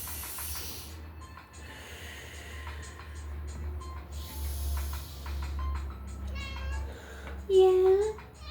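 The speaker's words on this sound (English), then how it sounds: "It's my cat. My cat's talking." A pet cat meows once, a short, clear call near the end that rises above a quiet indoor room with soft background noise and faint shuffling.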